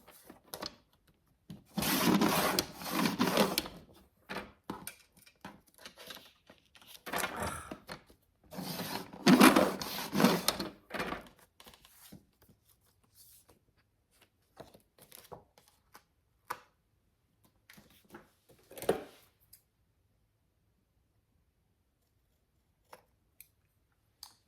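Scissors or a blade cutting paper for a Christmas craft book, in several short bursts of crisp snipping and rustling, close and fairly quiet, separated by near silence and scattered small taps.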